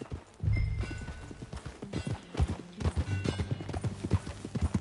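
Horse hooves clip-clop in a steady trotting rhythm close by in the video game Red Dead Redemption 2, with a low rumble of movement beneath the beats.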